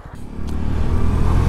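A CFMOTO 300SS, a 300 cc single-cylinder sport motorcycle, accelerates with its engine note climbing in a loud, steady rising drone close by.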